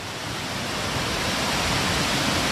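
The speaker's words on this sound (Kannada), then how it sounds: "ಓಯ್ ಏನೈತೆ ಫಾಲ್ಸು" Soormane Falls near Kalasa roars as a steady, loud, broadband wash of falling water, close and unbroken throughout with no voices.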